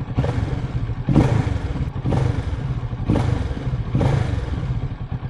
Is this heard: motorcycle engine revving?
yes